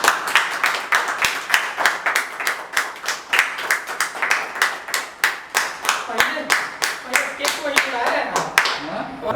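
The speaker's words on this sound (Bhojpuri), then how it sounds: "ताली मारो भैया।" An audience claps in a steady rhythmic beat, sharp repeated claps close by, with people talking and cheering over them.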